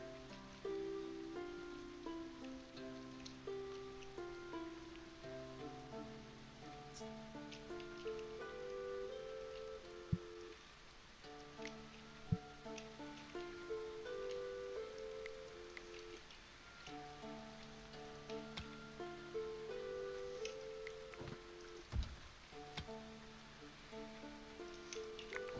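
Steady rain falls throughout a medieval colony-building video game, a soft continuous hiss of drops with soft background game music layered underneath and occasional faint clicks.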